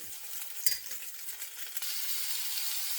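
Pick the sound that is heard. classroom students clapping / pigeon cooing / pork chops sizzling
pork chops sizzling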